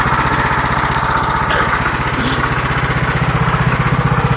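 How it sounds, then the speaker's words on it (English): A ride-on lawnmower engine runs close and loud throughout, with a steady pulsing drone and rapid rhythmic chugging. "Fucking ride on lawnmower, bro."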